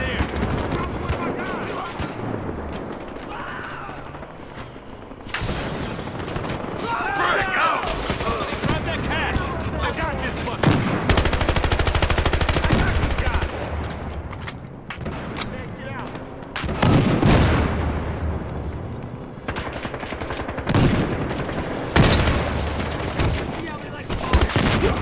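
Gunfire in the video game Battlefield Hardline, bursts of rifle and automatic shots crackling loudly and repeatedly over a steady rumble, with players talking over the action.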